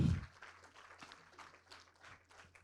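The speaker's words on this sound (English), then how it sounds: "A round of applause for these coaches." Faint, quiet applause from an audience honoring the coaches at a Global Challenge introduction, a soft steady patter of clapping over a low hum after a brief louder burst at the start.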